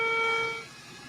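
A ship's whistle is tested with one steady, tonal horn blast that holds for about half a second, then stops and leaves a faint rumbling background.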